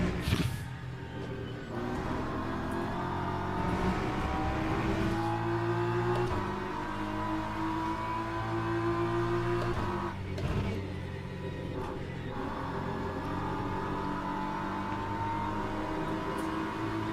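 A McLaren GT3 race car in the sim racing game Le Mans Ultimate drones steadily and loudly as it approaches, its engine tone rising and shifting through gears against a continuous mechanical whir.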